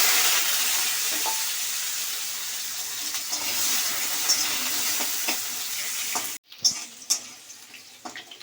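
Potato pieces fry in a pan with a steady bright sizzle for several seconds. The hiss then cuts off abruptly and gives way to a few scattered clinks and light knocks.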